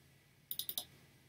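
A computer mouse clicks sharply and close, a quick burst of four crisp clicks in under half a second in an otherwise quiet room.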